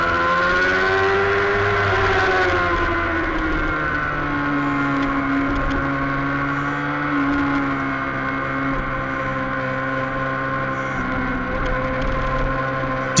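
Race motorcycle engine at a road race, held against the rev limiter with a steady high droning buzz and wavering harmonics, loud and sustained, with occasional pitch shifts as it passes.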